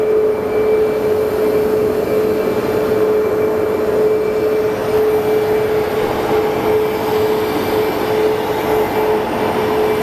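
An American Airlines Airbus A319 jet at Phoenix Sky Harbor on a rainy day, a loud, steady jet engine roar with a sustained whining tone throughout, heard fairly close and without talk.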